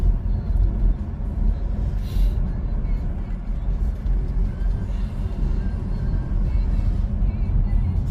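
A car drives on a road toward home at a slow pace behind a van, its engine and tyre noise a steady, close, low rumble throughout.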